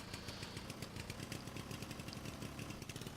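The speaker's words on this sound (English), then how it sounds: "Listen to that engine." A small car engine in the game Jalopy drones steadily, a buzzy mechanical chug that holds an even pitch throughout, with no voices.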